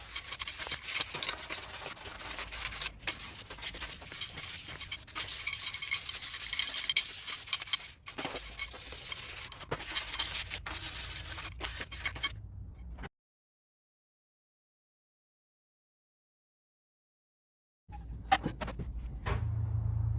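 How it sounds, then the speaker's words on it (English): Fine 1000 grit sandpaper rubbing over the finish of a Maverick 88 shotgun's magazine tube, a close, steady scratchy swish with short pauses, then a stretch of silence before a few more scrapes. "now that we've got the parts all scuffed up with sandpaper"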